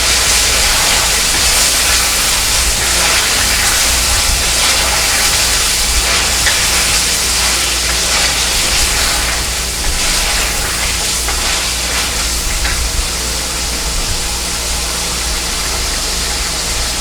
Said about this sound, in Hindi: और अब हम इसे तेज़ आंच के ऊपर फ्राई करते जाएंगे।